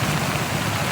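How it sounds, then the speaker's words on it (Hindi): Heavy monsoon rain falls in Rajasthan, a loud, continuous wash of drops beating on surfaces with no pauses and no voices over it. "बारिश हो रही है,"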